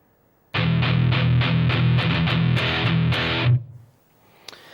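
A heavily distorted electric guitar plays a slow palm-muted riff in a steady stream of chugging strokes. Muted chords with left-hand damping sustain for about three seconds at even loudness, then stop abruptly with a short ringing tail.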